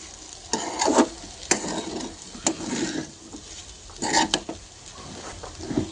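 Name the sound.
stirring peanut powder into guava sabudana khichdi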